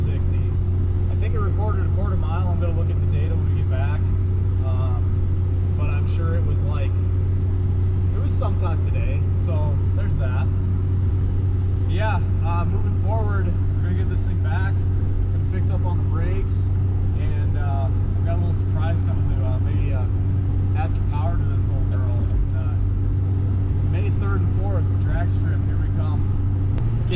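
An old inline-six Mercury Comet drives along with a steady, droning engine hum and road noise throughout, while people talk over it.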